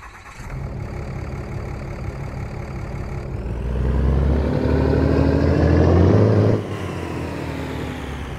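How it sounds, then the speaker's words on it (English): A Cummins diesel engine in a RAM 3500 pickup in American Truck Simulator idles with a steady low rumble, then revs up and swells louder for a few seconds before settling back to idle. "It does come with its own custom sound set with this Cummins engine"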